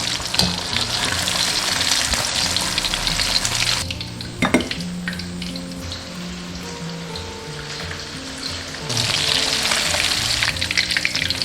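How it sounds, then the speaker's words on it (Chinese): Large fish pieces deep-fry in hot oil until golden, giving a loud, dense, steady sizzle that eases to a softer bubbling in the middle stretch before rising again. "定型过后，我们给它翻一下， 炸了大概4、5分钟"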